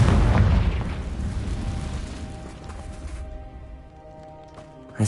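A fiery Confringo spell blast from Hogwarts Legacy booms heavily right away and rumbles down over a few seconds, followed by a smaller pop at the very end.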